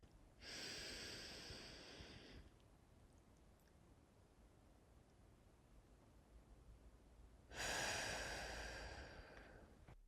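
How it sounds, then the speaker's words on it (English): A deep breath drawn in and later let out, two long airy bursts separated by a quiet pause, close and clear with no talking. "Take a big deep breath."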